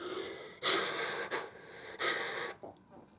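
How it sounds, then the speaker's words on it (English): Weird, wheezy breathing from a person, three loud, rasping breaths in a row, close to the microphone and heard alone. "Am I breathing weird?"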